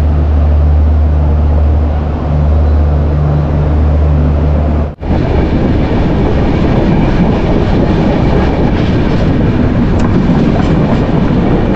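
Train running on the rails near Sultanpur Junction, heard from on board the Anand Vihar–Raxaul Sadbhavna Express as a loud, continuous rolling roar with rattling wheels and a brief dropout partway through.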